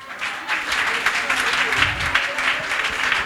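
A church congregation applauds and cheers in praise of Jesus, with steady clapping and crowd noise filling the room and a preacher's voice speaking over it.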